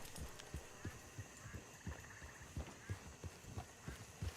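Horse hooves clip-clop at a steady walking rhythm in Red Dead Redemption 2, quiet and evenly spaced throughout the clip.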